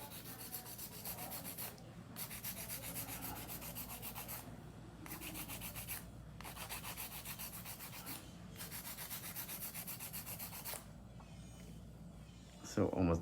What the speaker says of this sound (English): you want to drill down as much as possible with the drill first